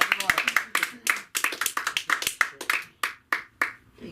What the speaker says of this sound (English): Give yourself a round of applause so you can keep going without so much water.